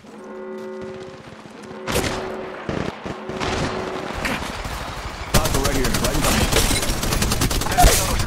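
Gunfire from the Apex Legends Mobile video game: bursts of automatic weapon fire and heavy shots ring out loud and close, then a dense, sustained volley fills the second half, with brief game voice lines under the shooting.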